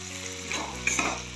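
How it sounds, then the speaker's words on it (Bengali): Ghee sizzling in a pan with bread pieces for a fried-bread pulao, giving a short, close hiss with faint stirring clinks. "এই পরিমাণ মতো একটু ঘি দিলাম।"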